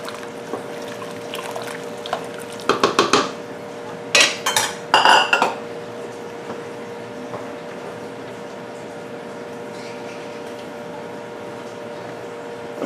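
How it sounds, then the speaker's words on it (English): Dry lentils, a large batch, pour into a pot of soup, giving a few bursts of rattling patter over a steady kitchen hum. "I'm going to add all my lentils at this time"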